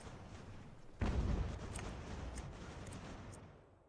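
A cannon fires in the strategy game Ultimate General: American Revolution: one sudden, heavy boom that decays into a long rumble, with a few faint, sharp cracks of distant fire afterward.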